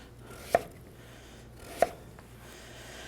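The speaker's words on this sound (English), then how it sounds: "So if I want to be extra safe, I'll cut this in half, then cut it here." Knife chopping through butternut squash on a cutting board, two sharp distinct thunks about a second and a quarter apart, close and clear in a quiet kitchen.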